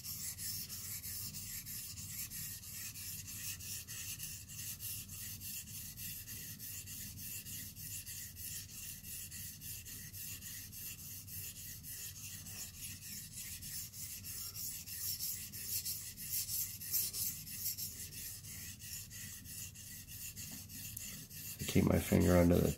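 A knife blade rasps steadily against a Blitz 360 sharpener in long, repeated gritty strokes, close and fairly quiet, with a louder scrape at the very end.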